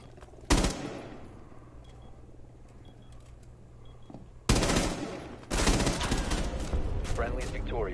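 Gunfire in the video game Rainbow Six Siege: a sharp close shot, a quieter stretch, then loud sustained automatic bursts near the end, sounding alone without talk.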